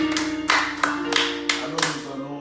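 A church congregation claps during worship to acclaim the Lord, with several sharp, fairly loud clap bursts at irregular intervals over a sustained background of voices or music.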